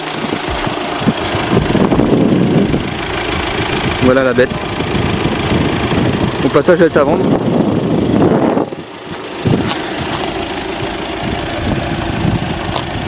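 A reassembled Audi A3 Sportback 2.0 TDI 170 hp diesel idles steadily throughout, a low, even engine rumble that sits beneath someone talking close by.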